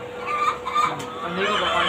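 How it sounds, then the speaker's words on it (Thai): Chickens cluck and squawk at an egg-laying hen farm housing about eighty to ninety birds, a dense, continuous chorus of close, overlapping calls with a faint crow, under a voice. "ไก่อยู่ประมาณแปดสิบเก้าสิบตัว"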